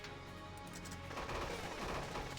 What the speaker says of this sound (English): 2 shots.